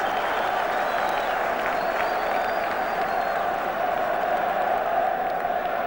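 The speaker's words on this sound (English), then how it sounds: "And listen to the applause." Steady, sustained applause from a large football stadium crowd at the 1978 FA Cup semi-final, Ipswich v West Brom, a dense wash of clapping and murmur that stays constant throughout.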